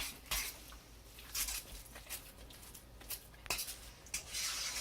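A spoon scrapes and rubs through a zucchini fritter batter in a bowl, soft gritty strokes repeating every second or so, close and quiet.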